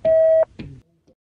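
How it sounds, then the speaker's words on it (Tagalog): A voicemail system sounds a single clean electronic beep, loud and steady for under half a second, followed by a brief clunk of the line opening and near silence. "Please leave a message after the beep."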